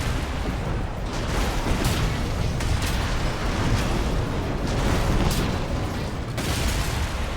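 Heavy weapon fire from a mech in Armored Core VI, a dense continuous barrage of booming, bursting shots with repeated sharp blasts over a constant rumbling roar, loud and close, with no talking.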